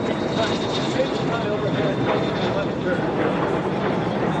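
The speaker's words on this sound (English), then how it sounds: "Low approach for the two L39s in the right base." Two L-39 jet trainers on a low approach at an airshow, a broad, continuous roar of jet engine noise, loud and steady throughout.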